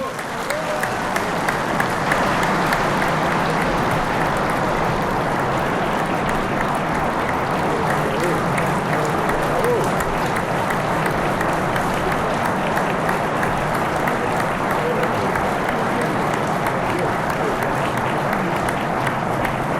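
Sustained audience applause at a dairy farmers' union gathering, a dense, loud, even roar of many hands clapping that holds steady without letting up.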